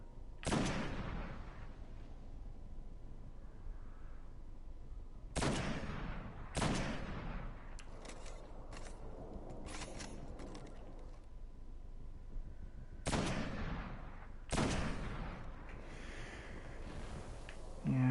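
Sniper rifle shots in the video game Destiny, several sharp loud cracks spaced irregularly across the stretch, each followed by a short decaying tail over a low background rumble.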